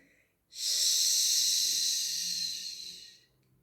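A long, steady exhale during a breathing exercise, close and breathy, lasting about two and a half seconds before fading out, alone in a quiet room.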